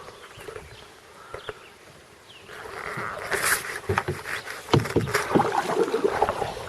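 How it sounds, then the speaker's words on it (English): Canoe paddles dipping and pulling through water on the upper Sabine River, with irregular splashes and swishes growing busier and closer over a quiet outdoor background. "And the sound of our paddles."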